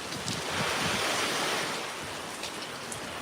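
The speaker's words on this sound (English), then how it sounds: "The wind is gusting, y'all." Hurricane Milton wind gusts in a steady, loud roar of blustery air with heavy microphone buffeting, swelling and easing slightly over a few seconds.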